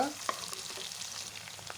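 Onions and curry leaves fry in oil while being stirred, a quiet steady sizzle with light scraping taps from the spoon, close up and without speech.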